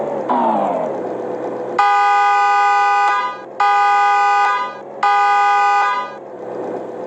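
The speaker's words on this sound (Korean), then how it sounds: "바뀐 게 빵빵이 크락션 소리가요" A car horn in a 3D driving game blares in three long, steady honks, each held for about a second, loud and close, with short gaps between them.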